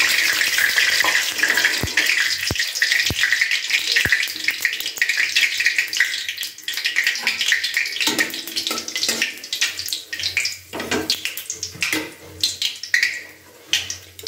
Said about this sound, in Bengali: সবার প্রথমে আমি শুকনো লঙ্কাগুলোকে তেলের মধ্যে দিয়ে দিলাম